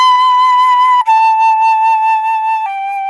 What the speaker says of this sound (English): And now we can play our song Hot Cross Buns